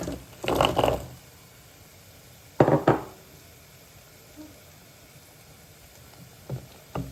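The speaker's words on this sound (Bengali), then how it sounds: "সো এখন আমি ব্রাসেলস স্প্রাউটস দিলাইলাম।" Brussels sprouts go into a cooking pan with two or three clattering, rustling bursts against the metal, separated by quiet stretches of low kitchen background.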